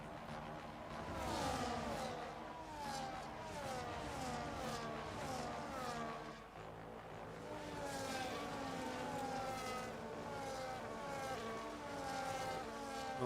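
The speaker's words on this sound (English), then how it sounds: "The constant rumble of the apex for all the cars coming through." Racing car engines in the F1 25 game sweep continuously past a corner apex at the British circuit, rising and falling whines layered over a low, steady rumble from the kerbs, with a brief dip midway before the stream of cars resumes.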